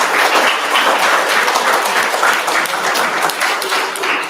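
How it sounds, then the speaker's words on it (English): Sustained audience applause for the winner of a senior geography bee national final, a dense, loud wash of clapping hands filling the whole stretch with no voices on top. "Give him a big round of applause."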